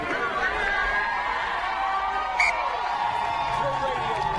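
A stadium crowd at a women's rugby sevens match in Atlanta roars and cheers steadily throughout, a broad, continuous wash of voices with a brief whoop near the middle and a commentator talking over it.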